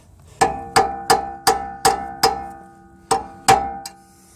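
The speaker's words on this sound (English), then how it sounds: "So there's like a little teeny crack you could barely see, so we get the chisel in here like that." Eight sharp metallic hammer strikes drive a chisel into a hairline crack in a Volkswagen/Audi rear wheel bearing hub, ringing with a bell-like tone at a steady rhythm with a brief pause before the last two blows, close and loud.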